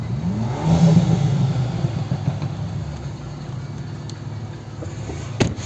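A 2011 Volvo V50 1.6 diesel manual engine roars loudly, swelling early on then settling into a steady rumbling idle, with a sharp click near the end.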